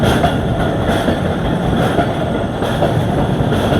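A Marvi Passenger train runs through the Thar Desert, giving a loud, continuous rumble with rhythmic wheel clatter and a steady rushing roar throughout.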